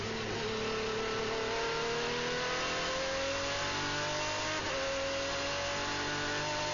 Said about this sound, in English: there's Kumpen's 3rd place car ahead